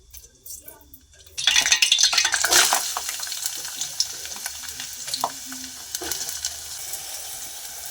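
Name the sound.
brinjals being fried and stirred in a pan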